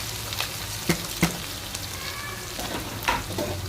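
Chopped onions sizzle in hot tempering oil, a steady crackling hiss up close, punctuated by a few quick clicks of a spoon against the pan.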